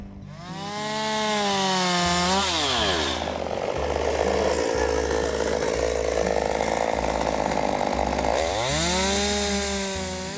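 A chainsaw revs up to a high whine, bogs into a lower, rougher grind while cutting through grapevine wood, then revs back up at the end.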